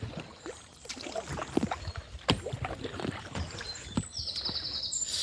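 Kayak paddling on a river: gentle water splashes and dips of the paddle in irregular rhythm, close by, with faint birdsong chirping in the background.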